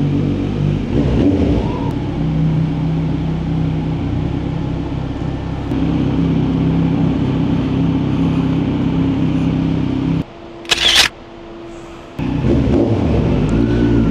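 A 2022 Kawasaki Z900 motorcycle with no exhaust silencer drones and revs loud and rough, steady, with a brief drop and a sharp burst near the end before the rumble resumes.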